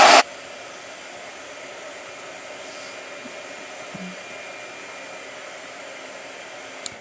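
A blow dryer runs steadily as a constant airy whoosh, a brief loud burst at the start then an even, moderately loud hum with a couple of faint clicks and no talking.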